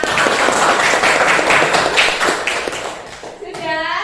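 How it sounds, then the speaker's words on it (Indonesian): A classroom group claps together in a brisk, sustained burst of applause, close and loud, fading out near the end as a voice begins. "tepuk tangan untuk kita semua"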